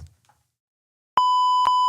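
A loud steady censor bleep, a pure electronic tone, cuts in partway through a podcast conversation and holds to the end, masking a spoken word after brief quiet.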